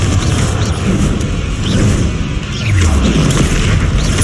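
A Confringo spell explosion in Hogwarts Legacy on hard difficulty, a loud, full booming blast set within a constant roar of battle sounds and music.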